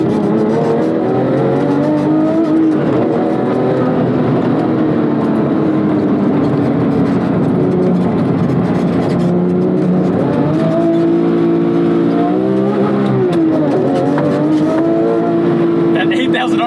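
A 2004 Porsche 911 GT3 (996.2) flat-six wails loud and close as it climbs toward 8,000 RPM, with rising and falling pitch sweeps through the gears under a continuous in-car roar.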